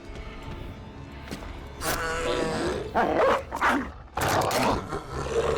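A dog enemy snarls, growls and yelps during an attack in a video game. The sounds come in loud, rough bursts over a steady game background with no speech.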